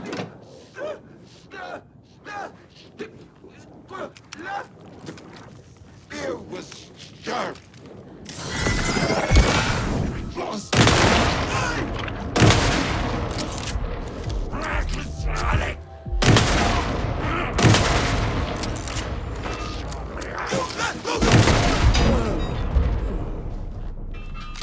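Alan Wake 2 gunfire: scattered single shots, then dense bursts of loud shooting and booms, with talking mixed in.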